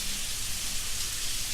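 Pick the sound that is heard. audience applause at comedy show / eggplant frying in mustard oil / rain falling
rain falling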